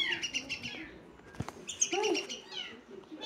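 Small birds chirp and tweet in short bursts near people sitting down to eat a meal outdoors, with brief rustles and a faint voice in the background.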